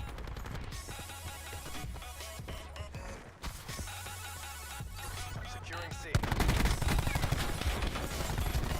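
Video game gunfire in rapid bursts, with dense automatic shots and crashing impacts that grow louder toward the end over a busy game soundscape.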